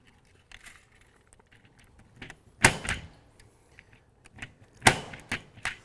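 Punch down tool seating telephone wires into a 66 block, sharp snapping impacts, two prominent loud strikes among several smaller clicks and rustles, close up and without talk.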